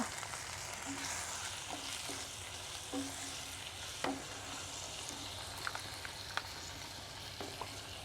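Tomatoes and ground spices with Kashmiri chilli sautéing in a pan, a steady low sizzle with occasional soft stirring scrapes and small pops, fairly quiet and continuous, no voices.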